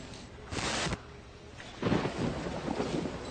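Low rumbling of distant thunder from an approaching thunderstorm, rolling in two broad swells with the second one louder and longer, under steady wind-like background noise.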